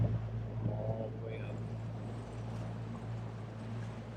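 A boat motor idles steadily on Lake Welsh, a low constant hum near the listener with wind noise, and a voice is heard briefly at the start.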